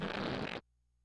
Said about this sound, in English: that is a different fart and burp sound effect for each face button on the controller